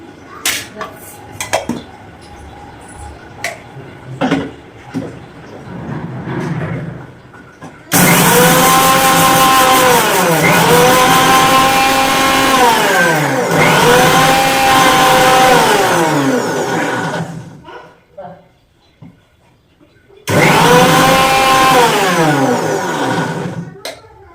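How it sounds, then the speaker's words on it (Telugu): A mixer grinder grinding mustard seeds roars loudly in two long bursts with a whining, rattling pitch, separated by a short pause, with quieter clatter before it starts. "ఫస్ట్ అయితే ఆవాలను అయితే మిక్సీ పట్టుకుంటాం"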